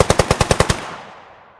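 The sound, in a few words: beetle's explosive spray slowed down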